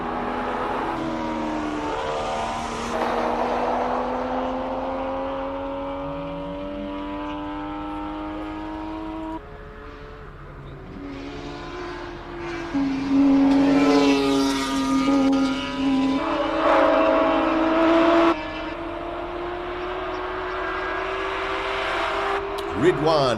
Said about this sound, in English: Sean McKay and Dayan Padiachi out on track, both in the A5 category.